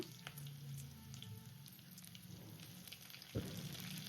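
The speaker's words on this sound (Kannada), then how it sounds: "ಸ್ವಲ್ಪ ಈರುಳ್ಳಿ ಫ್ರೈ ಆದಮೇಲೆ ಈಗ ಕರಿಬೇವು ಹಾಕ್ಕೊಳ್ಳೋಣ" Sliced onions and curry leaves frying in oil in a pan for a tomato curry, a faint steady sizzle with scattered crackles and one brief clatter near the end, no voices.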